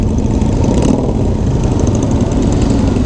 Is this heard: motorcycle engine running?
yes